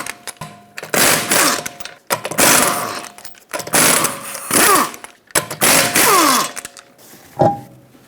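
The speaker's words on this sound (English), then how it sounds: "Use a 19mm socket, remove all 5 lug nuts, and then remove the wheel." An impact wrench with a 19mm socket removes the five lug nuts from a 2008–2012 Honda Accord wheel, giving five loud, close bursts of rattling hammering with short pauses between them.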